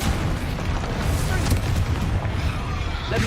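Confringo blasting spell explosions in Hogwarts Legacy, a dense, loud rumbling boom that roars steadily for a few seconds with crackling debris throughout.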